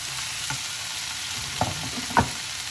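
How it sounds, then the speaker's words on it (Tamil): Chopped tomatoes sautéing with turmeric in a pan for mushroom masala: a continuous frying sizzle broken by a few sharp scrapes of the spatula, close by and fairly loud, with no speech. "அது வரைக்கும் நல்லா வதக்கிக்கிறேன்"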